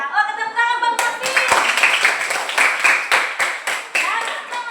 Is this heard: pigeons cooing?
no